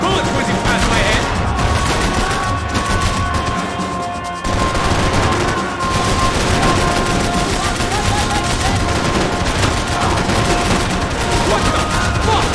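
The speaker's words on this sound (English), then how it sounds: "I can't concentrate with bullets whizzing past my head." Dense, continuous gunfire from Max Payne 3 fills the scene, with overlapping automatic bursts, sharp shots and whizzing bullets, loud and close throughout, plus occasional voices mixed in.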